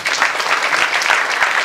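Audience clapping along at a devotional kirtan held for Guru Purnima, a steady, dense clatter of many hands filling the short moment without a break.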